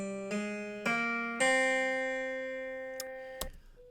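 An Aeolian minor scale sounded as a few sustained tones entering one after another and ringing together, clean and moderately quiet, with a short click near the end.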